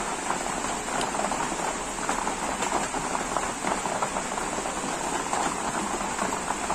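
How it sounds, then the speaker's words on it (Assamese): Steady rain pours down continuously, a dense even hiss of drops on surfaces with no breaks, fairly faint and close, without voices. "আপোনালোকে বৰষুণৰ আৱাজ শুনা পাইছেই চাগে"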